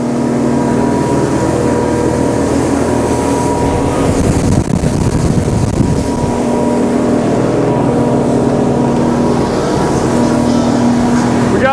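A motorboat cruising at about 40 on calm water, engine turning 4,800 RPM, gives a steady loud drone with a constant low hum and wash throughout, close and continuous with no voices.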